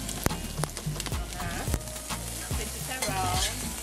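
Seasoning sizzles and fries in a hot pan for Jamaican shrimp fried rice, a steady close crackle with stirring clatter and scraping throughout, while background music or voices play faintly underneath.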